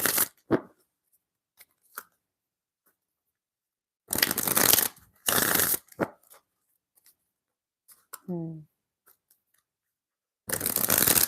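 Tarot cards being shuffled in several short crisp riffling bursts separated by silence, close and fairly quiet, with a brief faint voice sound between them.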